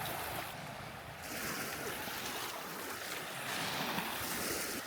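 Steady roar of sea waves washing onto the shore at a quiet cove near Datça, a continuous broad surf wash with gentle swells and some wind, no talk.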